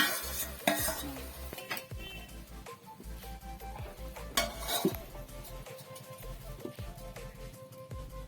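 Jatilao bottle gourd and tomatoes are stir-fried in a pan, with a spatula repeatedly scraping and knocking against the metal in an uneven rhythm over a soft, low sizzle, fairly close and quiet.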